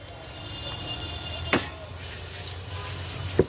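Chow mein hisses in a hot pan as sauce goes in, a steady sizzle broken by a couple of sharp clanks of the utensil against the pan.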